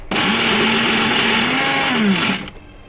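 Mixer grinder blending garlic and tomatoes for a chili pachadi, a loud steady motor whir running for about two seconds before cutting off abruptly, close and alone.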